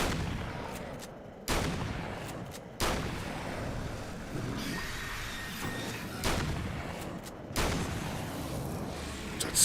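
Shotgun blasts in Alan Wake's American Nightmare: several loud, booming shots spaced a second or two apart, each one a sudden broadband burst over a steady rumble of game noise.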